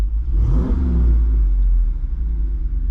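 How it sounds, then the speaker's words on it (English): A Jeep Wrangler 392 V8 with active exhaust on gives a single deep rev, a loud rumbling bark that rises quickly and settles back into a heavy, throbbing idle. "I'm gonna do a couple revs and I want to see if you can hear the difference. So this is with the active exhaust on"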